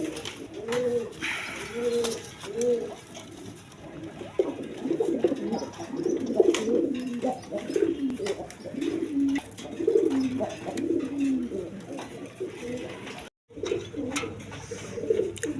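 A pair of young high-flying Giribaz pigeons coo repeatedly and close by, the soft rolling calls coming in steady phrases against a faint background, with a brief pause near the end.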